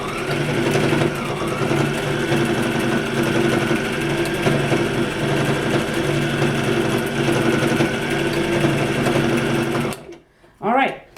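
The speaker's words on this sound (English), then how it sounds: "So I use the back stitch button and go back and forth, forward, backwards," A sewing machine stitching a face mask runs steadily back and forth using its back-stitch button, a loud continuous mechanical whir that cuts off near the end, followed by a brief burst of speech.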